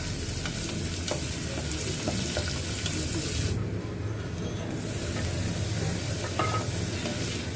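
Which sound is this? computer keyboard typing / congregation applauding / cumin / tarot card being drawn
cumin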